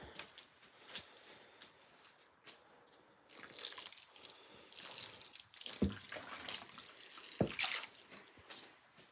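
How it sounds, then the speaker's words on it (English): A soil block making tool is dipped into a bucket of water, giving close sloshing, dripping and squelching splashes with a couple of sharper watery knocks spread unevenly through the stretch. "dip that in. That's probably enough water."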